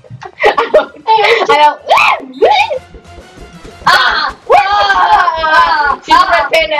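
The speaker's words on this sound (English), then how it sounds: "You have to stop screaming." Several voices shriek and scream loudly in short, overlapping outbursts, with brief squeals and wails broken by pauses, close and raw over a game setting.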